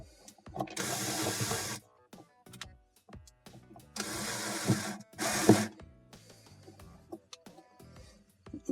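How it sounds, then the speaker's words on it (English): Screws are driven with a number 2 Phillips during a Whirlpool washer tub-bearing repair, heard as several short, close whirring mechanical bursts separated by quiet gaps and small clicks. "take my number 2 Phillips and get those screws started"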